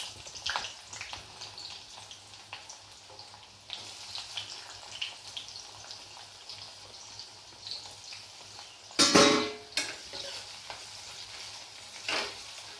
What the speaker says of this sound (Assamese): তেলত এতিয়া মই পিঁয়াজখিনি দি দিম।